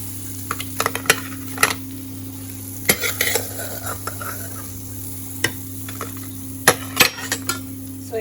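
Bread pieces sizzle with onion in a pan over a steady frying hiss, broken by sharp, close clinks and scrapes of a spoon stirring against the metal.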